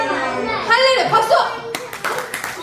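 Children at a church Sunday school service clap their hands, a burst of quick, close claps following an adult's voice and mixed with children's voices.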